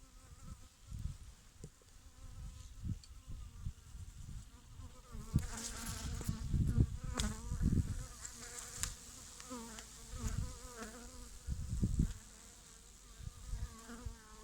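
Honeybees buzz around an open beehive during a winter inspection, a close, wavering drone that rises and falls as individual bees pass near, with some handling noise from the hive.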